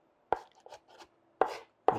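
Meat chopped by hand with a knife into fine pieces for an Ethiopian dish, three sharp close thuds on a board with quieter scraping between them.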